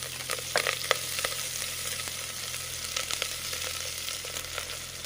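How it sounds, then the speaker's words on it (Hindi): Onions and whole spices fry in hot oil in a pan on a portable camping stove, a constant close sizzle with scattered sharp crackles and spits and a low steady hum beneath. "इसको मैं 5 मिनट के लिए भूनूंगा थोड़ा सा"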